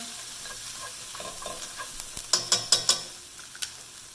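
Cinnamon, lemongrass and ginger fry in a pan for a Vietnamese beef stew (bo kho), with a soft sizzle under stirring and a quick run of sharp utensil clacks against the pan partway through.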